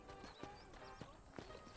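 A horse in the Western video game Red Dead Redemption: a few irregular clip-clop hoof strikes and a faint whinny, quiet and close, heard without speech.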